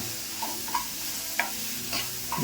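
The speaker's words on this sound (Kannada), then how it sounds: "ಇವಾಗ ರುಬ್ಬಿಟ್ಕೊಂಡಿದ್ದಲ್ಲ ಮಸಾಲೆ ಹಾಕೊಳ್ಳೋಣ. ಇದ್ರ ಜೊತೆ ಇದನ್ನು ಮಿಕ್ಸ್ ಮಾಡ್ಕೊಳ್ಳೋಣ." Potatoes fried until done are stirred in a pan with freshly ground masala for an okra potato sabji. Scattered scraping strokes of a spoon come over a steady soft sizzle, close and fairly quiet, with no talk.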